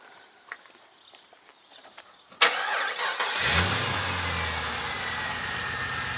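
A Holden CV8 Monaro with a 5.7-litre V8 cranks over amid light background noise, then catches with a loud burst and settles into a deep, steady idle that fills the space, heard close up with no talking.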